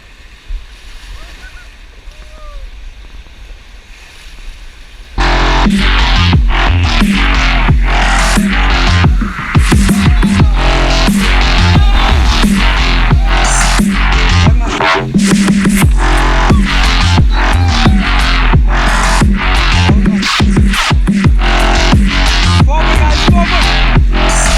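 Ganges river rapid called Club House, hit while rafting in Rishikesh: after a quiet opening with faint voices, a sudden loud, churning roar of whitewater and splashing takes over and stays intense, with people shouting over it.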